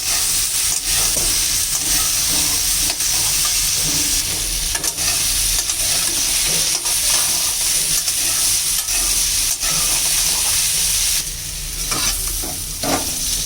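Potatoes and spiny gourd fry loudly in a pan, a constant sizzle broken by repeated scraping and stirring clatter.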